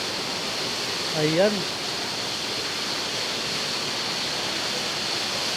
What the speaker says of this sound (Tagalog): subukan natin akitin ang taas ng waterfalls na ito, Busay